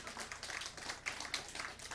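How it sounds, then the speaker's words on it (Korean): Faint, steady applause from an audience at a political party's Daegu chapter founding rally, a dense patter of many hands that stays distant and even for the whole stretch. "박수 치세요"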